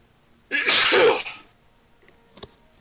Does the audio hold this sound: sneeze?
yes